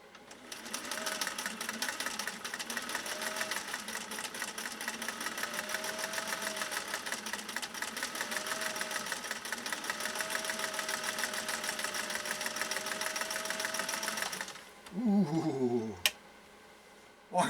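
A Singer 401A sewing machine stitches a cam stitch pattern in a steady, fast, continuous whir with rapid needle clatter for about fourteen seconds, then stops, followed by a few brief handling clicks.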